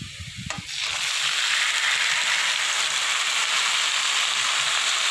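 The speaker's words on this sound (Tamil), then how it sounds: "தக்காளியும் சேர்த்து நல்லா வதக்கி கொடுத்துக்கலாம்." Onions and tomatoes sauté in a pan for Tamil-style tomato chops, a loud, steady hiss of sizzling that bursts in after a brief clatter and holds constant to the end.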